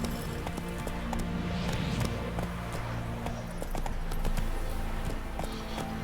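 Roach, Geralt's horse in The Witcher 3, gallops with rapid, steady hoofbeats over a low game ambience, close and continuous throughout.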